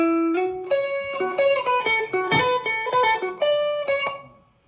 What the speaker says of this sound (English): then a hammer on 14 to 16 on the G, then 14,